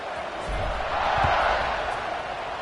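Stadium crowd murmur in a college football video game, Clemson against California late in the fourth quarter, a steady buzzing roar that swells slightly midway under commentary-level ambience.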